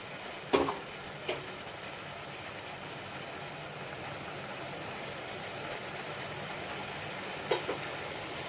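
Kokum juice is added to a sizzling spice tempering, giving a continuous, even sizzle with a low rumble underneath, broken by a few sharp clanks near the start and end.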